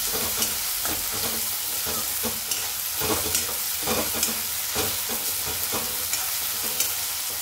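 Coarsely crushed green chillies sauté in a hot pan with a dense, continuous sizzle up close. Frequent scraping stirs and light clatters run through it at a quick, uneven rhythm. No voices.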